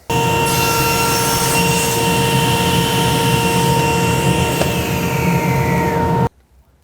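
A table saw rips a thin wood off-cut guided by a GRR-RIPPER push block, giving a loud, steady whining roar for about six seconds before cutting off abruptly.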